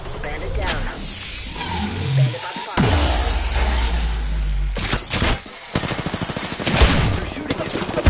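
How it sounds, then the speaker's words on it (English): Bursts of rapid automatic gunfire and sharp single shots in Apex Legends, loud and close, broken by short gaps and whooshing effects, with voice lines over the combat. "They're shooting at me. I'm taking fire."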